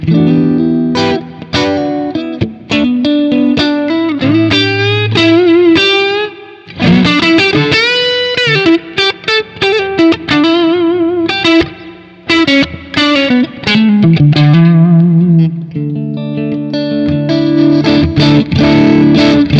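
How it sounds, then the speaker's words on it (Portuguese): Electric guitar played on a clean tone through spring reverb from a Tank-G amp modeler, a loud phrase of melodic single notes and chords that ring and decay with a splashy tail, no speech. "ó, reverb de mola."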